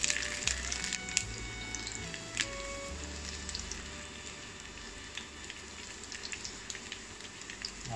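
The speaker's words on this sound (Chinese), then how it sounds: "来慢火给它爆香，记住火别太大了" Dried shrimp sizzling in oil in a wok over low heat, a steady close crackle and hiss with occasional sharper pops throughout.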